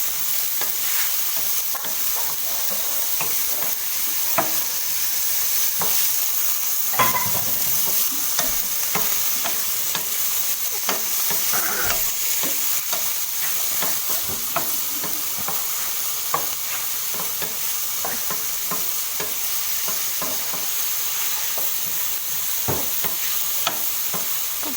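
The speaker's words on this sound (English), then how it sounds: "No, onion first. Cook it, let it get translucent." Half of a large onion sizzles steadily in a pan, with repeated light scrapes and clicks of a utensil stirring it throughout, a continuous close frying hiss.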